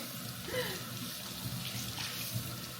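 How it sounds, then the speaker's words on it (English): Tap water runs steadily into a kitchen sink while hands are washed under it, a soft continuous splashing with small bumps of movement, fairly quiet and with no talking. "Wash my hands one more time."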